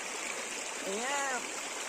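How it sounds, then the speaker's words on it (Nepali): Bitijor river stream in Sindhuli, Nepal, flowing steadily with a broad, even rush of water, a faint voice-like tone rising briefly in the middle. "यो चाहिँ हाम्रो बितिजोर खोला हो"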